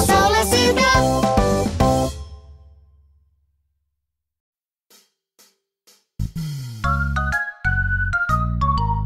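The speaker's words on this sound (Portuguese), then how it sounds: "Xilofone, ding dong, xilofone, ding dong" Xylophone in a bright children's song: melodic struck notes ring out, fade into near-silence, then return after a few faint taps as a fuller run of tones with accompaniment.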